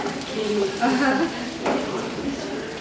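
Potatoes half-fry in oil over medium heat, giving a steady close sizzle with some stirring scrapes, while a person talks over it.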